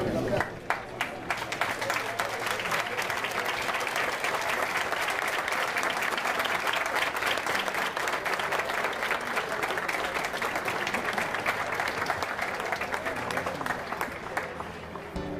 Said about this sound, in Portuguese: Zico é aplaudido ao chegar ao velório do amigo Roberto Dinamite.